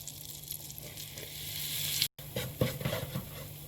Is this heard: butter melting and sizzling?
yes